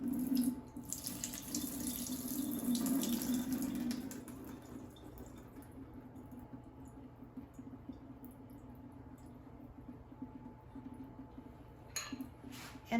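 A can of maraschino cherries being drained in a kitchen, liquid pouring steadily for a few seconds and then trickling and dripping more quietly, faint and close with no speech.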